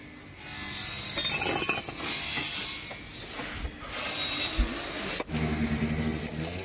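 A wrench loosens 16 mm bolts on the front suspension of a Peugeot 407 with a wheel problem, giving close metallic ratcheting and scraping in uneven bursts, plus a sharp clank near the end.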